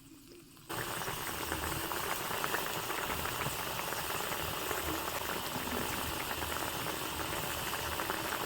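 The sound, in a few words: fish curry gravy simmering until it dries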